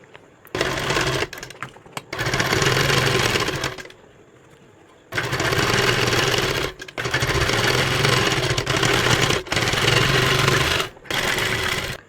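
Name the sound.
sewing machine stitching a sleeve strip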